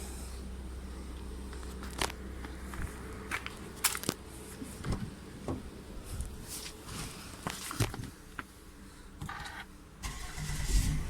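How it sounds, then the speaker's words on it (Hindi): A few clicks, thumps and footsteps, then the engine of a 2018 Kia Carnival cranks and turns over near the end, its rumble rising loudly. "अब गाड़ी स्टार्ट करते हैं"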